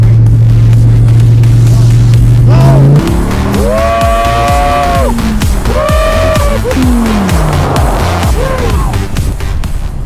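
A Dodge Viper SRT10 starts with a loud, steady engine drone, then accelerates hard. Its pitch climbs repeatedly through gear changes, with a brief dip between each rising sweep, all very close and loud.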